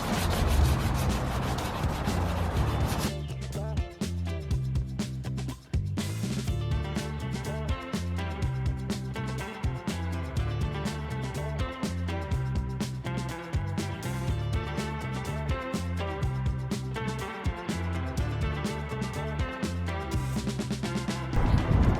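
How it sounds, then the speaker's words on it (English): Painted car bumper hand-sanded with 320-grit paper on a Durablock sanding block to remove paint runs, giving continuous, loud, close scraping strokes in a steady back-and-forth rhythm with no talking. "I've got some 320 on one of my Durablocks here, and I'm gonna try to get some of these runs out of here."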